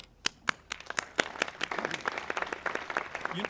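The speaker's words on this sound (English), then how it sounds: "And for that, we applaud you." Applause at a Memorial Day ceremony in Lawndale: sharp separate claps open it, then build into steady, fairly close clapping from a modest gathering.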